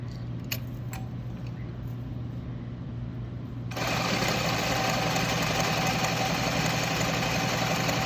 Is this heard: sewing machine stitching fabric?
yes